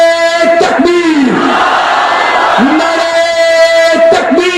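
A large crowd at a Khatm-e-Nabuwwat conference roars a chanted reply to a Takbir call, loud unison shouts repeating in waves, with a voice leading between responses.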